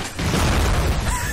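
Objects explode in Shadow Warrior 2, one loud sustained boom with a broad, noisy rumble that swells quickly and holds for about a second.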